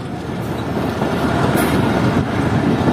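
A train pulls into Shela Bagh railway station near the Khojak Tunnel in Balochistan, with a loud, continuous rumble of rolling wagons and faint high squeals of the wheels close by.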